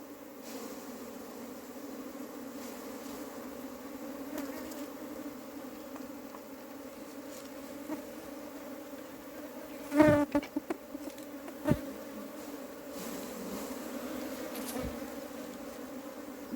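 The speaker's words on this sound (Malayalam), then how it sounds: "അത് ഹണി സൂപ്പറിലെ ഈച്ചകളാണ് നമ്മളിങ്ങോട്ട് കുടഞ്ഞു ഇടുകയാണ്" Honey bees shaken out of a honey super buzz in a steady, fairly quiet swarm hum, broken by a few sharp knocks and taps from the hive box.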